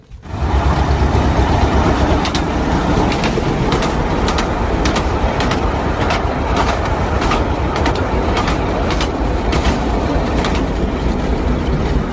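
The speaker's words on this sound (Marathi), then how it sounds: "माझ्या मागे ती जी टॉय ट्रेन आहे" A toy train near the Elephanta Caves rumbles past as a steady, loud rolling roar with faint rhythmic clatter and occasional sharp squeaks throughout, no voices.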